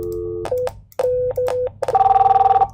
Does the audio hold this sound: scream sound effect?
no